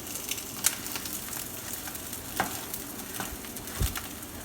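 An omelet sizzles and fries in a pan after being flipped, a steady close crackle with occasional sharper pops and spatters.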